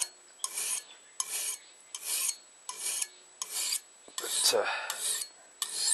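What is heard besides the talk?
hand file putting an edge on a French butcher knife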